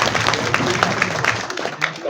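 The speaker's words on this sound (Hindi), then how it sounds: "आप सबको कहता हूँ कि इनके लिए तालियां बजाएं" Continuous applause rises from a crowd at a political meeting, a steady patter of many hands kept fairly soft and distant, with no break across its two seconds.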